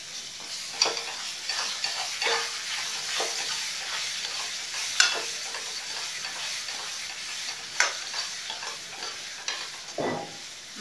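A ground paste of cashews, makhana, coconut and poppy seeds fries in a pan for a gulab jamun shahi sabzi masala, giving a continuous sizzle and hiss with regular scraping stirs and occasional clicks of the spoon.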